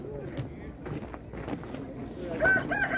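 Cochin chickens at an outdoor poultry market cluck and crow faintly amid the crowd, with people talking nearby over the whole stretch.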